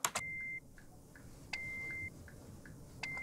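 Hospital-style pulse monitor beeping from a sampled ambient loop, with evenly spaced electronic beeps repeating about every second and a half over a soft hissy background, quiet and distant.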